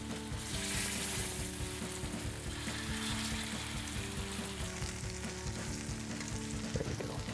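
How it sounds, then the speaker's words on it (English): Mushroom barley veggie burgers pan-searing on a stovetop give a steady, close sizzle and frying crackle that runs unbroken throughout, with no voices. "So we're going to pan-sear the veggie burgers on the stovetop, just until browned on the top and the bottom,"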